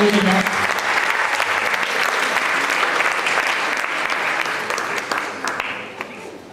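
Steady applause from a studio or stage audience welcoming the singer, sustained for several seconds before slowly thinning out near the end, with some voices faintly mixed in.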